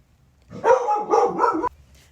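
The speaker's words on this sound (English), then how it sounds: "Alright, dog barking." A dog gives a single drawn-out, whining bark, close and fairly loud, lasting about a second before stopping abruptly.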